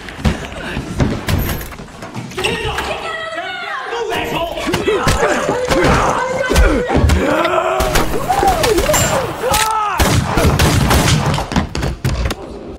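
Frank is shot by his best friend Billy in a Punisher action scene, with sharp, loud shots punching through dense, chaotic film sound and raised voices.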